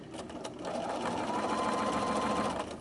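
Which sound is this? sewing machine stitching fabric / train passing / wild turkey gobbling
sewing machine stitching fabric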